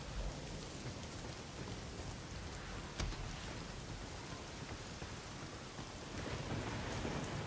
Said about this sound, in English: It's cool that the rain started